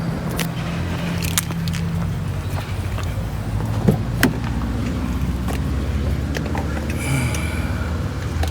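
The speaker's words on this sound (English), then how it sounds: "give it a start and try it out" An old car bought cheaply, freshly fitted with a new ignition control module after trouble in two bottom cylinders, has its engine cranked with a steady, continuous churning drone that carries on at an even level throughout, close by.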